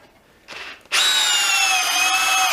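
A Makita DF032D 12V cordless drill spins up hard after a brief softer burst, then holds a loud, steady high-pitched motor whine for nearly two seconds, close by with no talking.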